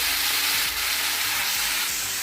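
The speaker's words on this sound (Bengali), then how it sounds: "মূলর শাকটা ভাজা হতে থাক" Radish greens fry in hot oil with panch phoron, a steady bright hiss of sizzling with a faint stir or two, close and continuous throughout.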